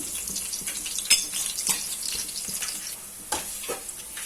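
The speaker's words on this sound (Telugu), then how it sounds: "తరిగిన ఉల్లిపాయల ముక్కలు ఆయిల్లో వేసుకున్నాము." Chopped onion pieces fry in hot oil with a steady crackling sizzle, and a few louder spatters and stirring scrapes stand out. It sounds close and moderately loud, with no talking.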